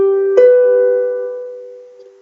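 Plucked harp notes from a new passage of the tune Fairly Shot of Her, a low tone ringing out, then a second pluck with brighter overtones, both sustaining and decaying alone.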